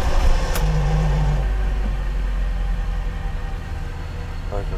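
A DAF truck's engine in heavy snow labors to start, then settles into a low, rough idle with a deep steady rumble, a brief rising whine and some faint background voices.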